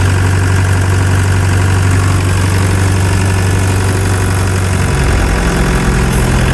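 A 50-year-old Mercedes camper's engine runs at a steady, loud idle with a deep droning hum and a slight knock. The pitch shifts a little near the end, and no voices are heard.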